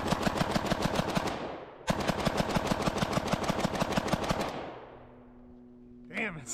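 Rapid fully automatic bursts from an AK-pattern rifle fitted with a K&S gas piston and a flex-honed chamber, two long strings of loud, evenly spaced shots with a brief pause between, then the firing stops and a faint hum lingers.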